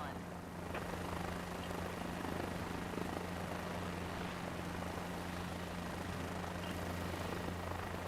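A helicopter in Microsoft Flight Simulator 2024 spools up for takeoff from a helipad, a steady loud rotor and turbine drone with a constant low hum filling the whole stretch.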